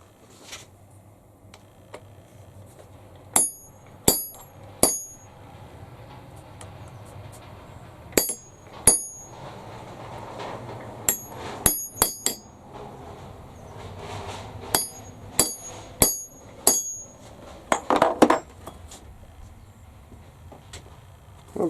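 A rivet setting tool is struck with a hammer in sharp, ringing metallic taps. They come singly and in quick pairs or triplets, separated by pauses, against a quiet workshop background.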